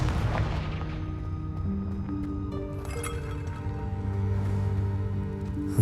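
A Confringo blast spell fired in Hogwarts Legacy, heard as a loud, sustained booming burst with rumbling low end over a droning game soundscape, with a further sharp impact at the very end.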